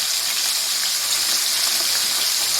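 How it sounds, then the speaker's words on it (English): Pieces of fish frying again in a pot of hot oil for Jamaican brown stew fish, giving a steady, dense sizzle that stays even and close throughout with no talk. "Just put them back in a pot and refry them again."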